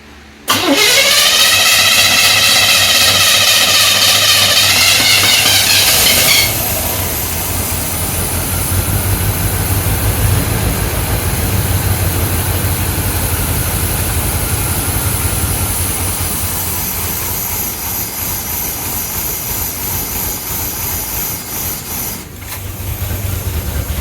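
A 1985 Chevrolet C-10 short bed pickup engine cranks, catches and roars with the throttle held open, a loud, steady high-revving drone close by that eases slightly after a few seconds and keeps running.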